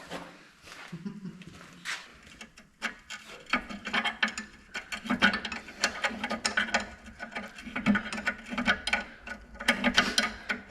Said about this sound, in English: this is my ratchet wrench that doesn't ratchet anymore